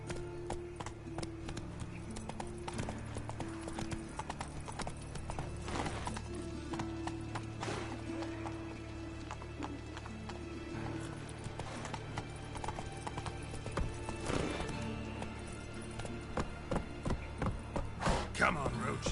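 Hooves of Roach, a horse in a video game, beat out a continuous galloping clip-clop rhythm, fairly close, with a brief whinny and a few sharp game effects layered over music.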